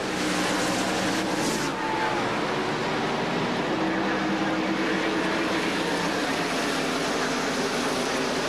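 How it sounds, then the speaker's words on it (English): NASCAR stock cars roar at Rockingham in a 2001 400-mile race, a dense, constant engine drone loud throughout as the field races under a faint commentator's voice. "Green flag, we're racing."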